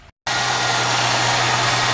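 A 2000 Ford Mustang with a 3.8 V6 runs loud and close in a steady drone with a constant low hum, coming in abruptly after a brief silent gap at the start.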